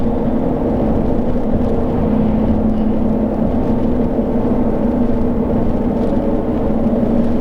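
The 6.2-liter V8 of a 2013 Ford F-150 SVT Raptor pulls steadily under acceleration on the road, a continuous deep engine drone with a constant low hum and road noise, no voices.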